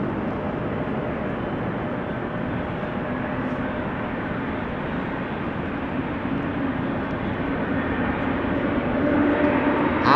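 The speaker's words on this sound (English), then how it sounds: "it is the 777-200 to Bangalore, making its way over to the threshold of 18 left" A Boeing 777-200 airliner bound for Bangalore taxis toward the threshold of runway 18 left at Schiphol, its engines a steady, distant broadband rumble that swells slightly near the end.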